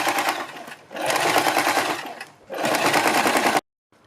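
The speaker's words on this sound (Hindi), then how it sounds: "बीच में से फोल्ड करने के बाद हम इसके ऊपर सिलाई लगाते हैं" A sewing machine stitches a folded kurti neck strip in three loud, steady bursts of rapid needle clatter, separated by brief pauses before the machine stops.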